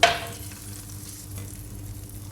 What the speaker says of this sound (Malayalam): ഇനി താളിച്ചത് കറിയിലോട്ട് ഒഴിച്ചു കൊടുക്കാം